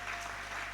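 A church congregation claps loudly to acclaim the Lord during an Easter service, a dense, steady burst of applause filling the brief moment.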